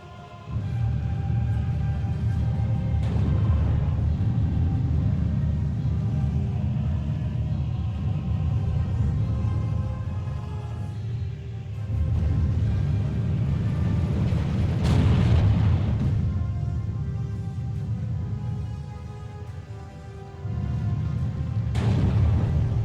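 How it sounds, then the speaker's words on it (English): Mortar fire in a World War II Soviet divisions strategy game: a continuous deep rumble of distant explosions, swelling with heavier booms every few seconds and never fully fading, with no talk. "I'm deploying the mortars"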